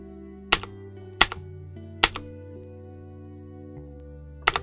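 A few separate, sharp keystrokes on a Royal Kludge RK920 full-size mechanical keyboard, spaced irregularly over a low steady hum.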